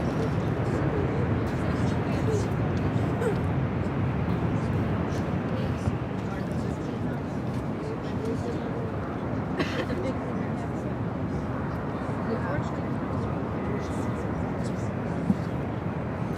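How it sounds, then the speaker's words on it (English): Air France Airbus A350, flight 26 from Paris, arriving on the north side at LAX, a steady broadband jet roar holding throughout at moderate distance, with faint chatter and background airport noise. "Air France, it's an A350 here on the north side. Flight 26 coming up from Paris."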